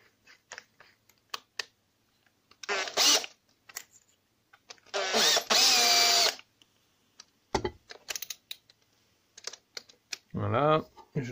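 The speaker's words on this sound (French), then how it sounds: "Alors moi je suis sur une grosse perceuse." A large power drill bores holes in two loud, close bursts, each spinning up and winding down, amid clicks and handling noises, with a brief spoken word near the end.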